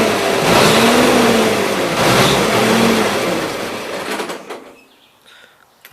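A 1977 Gravely GMT 900 garden tractor engine with a carburetor problem revving loudly up close, rising and falling for several seconds before cutting out into near silence.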